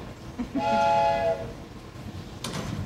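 Train whistle sound effect played during a middle school stage production of The Music Man: a single sustained horn blast of about a second, moderately loud over hall ambience, fading into faint background rumble.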